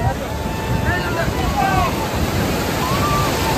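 Sea waves at Puri's Swargadwar beach wash in as a steady, loud roar of surf with wind noise throughout, while voices and faint tonal sounds rise briefly above it.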